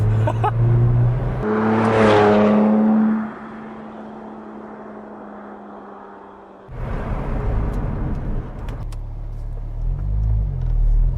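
A Porsche 997 GT2 RS on a winding road, its engine note rising loudly through the revs, then easing to a low drone before roaring again on hard acceleration, close and strong.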